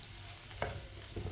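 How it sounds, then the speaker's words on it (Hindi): Spice masala cooking in a pan while a spoon stirs through it, a soft steady sizzle with one sharper scrape of the spoon partway and light clinks near the end. "अब इसे 1-2 मिनट के लिए पका लेंगे इसी तरह चम्मच चलाते हुए"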